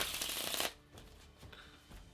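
Playing cards are shuffled in a quick, crisp riffle that ends abruptly, followed by softer handling and faint tapping of the deck, close and quiet.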